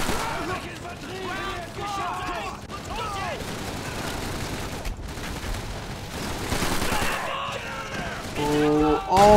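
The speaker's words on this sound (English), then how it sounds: "Oh my god, there's grenades everywhere!" Grenade blasts and gunfire in Call of Duty 3 fill a dense, continuous battle din, with bursts and booms layered throughout and a voice talking over the chaos.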